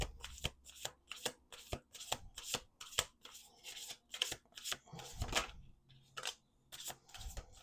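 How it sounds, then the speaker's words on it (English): Repeated riffle shuffles of a deck of cards, crisp fluttering bursts one after another at close range, with short pauses between. "Let's do two more shuffles."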